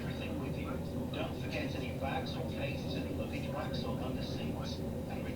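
A train pulls into Scarborough station, heard from inside the carriage as a low, steady rumble of wheels and running gear with faint rattles. Voices are heard over the rumble.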